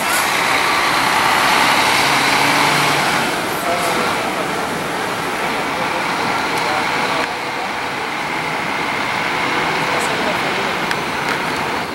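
A Santa Cruz bus pulls out of São Paulo's Tietê bus terminal during the Carnival holiday, with a loud, steady engine rumble and a broad wash of station noise that never lets up.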